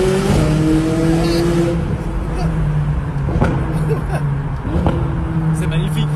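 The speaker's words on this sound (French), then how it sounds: "Le son en plus, c'est quand t'accélères, la voiture elle saute" A car engine revs and accelerates in rising surges, close and fairly loud, while people talk over it throughout.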